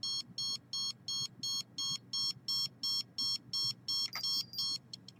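A radiation detector sounds a repeating electronic alarm, about a dozen short, evenly spaced beeps in a steady rhythm at moderate loudness, with a brief extra chirp near the end and no talking.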